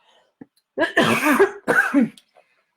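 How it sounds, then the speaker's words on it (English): Two harsh coughs in a row, close and fairly loud, with a brief throat sound before them and quiet afterward. "excuse me, I need to cough"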